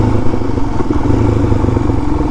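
A motorcycle with an FCR39 carburetor, stock exhaust and an opened back-plate mod runs at a steady, loud idle-to-rev drone throughout, close to the mic, with a continuous rumbling low end and no talking.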